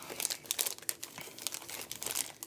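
A plastic zip bag is unfolded, giving quiet, close, irregular crinkling and rustling bursts throughout.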